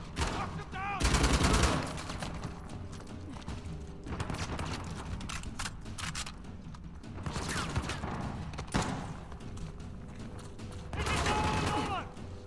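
Bursts of gunfire from a pistol and other weapons in Uncharted: The Lost Legacy, a loud heavy volley near the start and again at the end, with scattered shots and game din in between.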